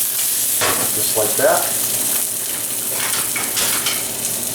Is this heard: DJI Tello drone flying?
no